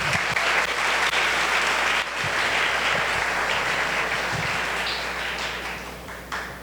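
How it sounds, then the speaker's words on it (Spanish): A crowd applauds steadily at a 65th anniversary celebration, loud and sustained, fading slightly toward the end. "Un aplauso para Silena."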